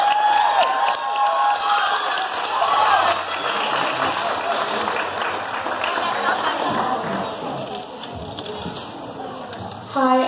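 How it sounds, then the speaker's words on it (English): Crowd at a local talent show cheering and clapping, with children's shouts mixed in, loud and sustained throughout, with voices audible in the mix. "Let's give them a round of applause."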